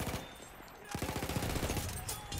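Rapid automatic gunfire from hip firing in the video game Battlefield 1, fast repeated shots in bursts, the second burst longer and denser, mixed with game noise.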